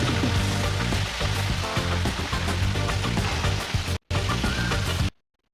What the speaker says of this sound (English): the sizzling sound of snapper frying in hot oil